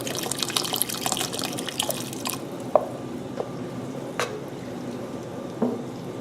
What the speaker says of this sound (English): Add a little bit more stock